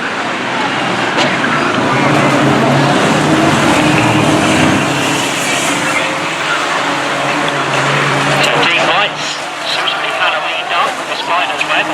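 Banger stock cars race around an oval track, their engines roaring in a loud continuous drone throughout, with a commentator talking over the racing.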